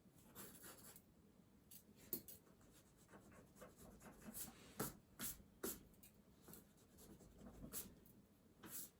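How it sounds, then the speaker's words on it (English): Pencil scratching and rubbing across paper while sketching, a steady soft scrape broken by brief louder strokes, close and fairly quiet with no talking. "Sketching some things out."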